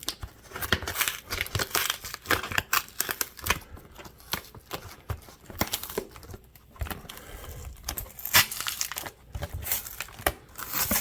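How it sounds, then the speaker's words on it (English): Tearing open a taped-shut mail package holding gold, continuous close ripping, crinkling and crackling of paper and tape in irregular bursts, no talk. "So let's see if I can kind of rip this open."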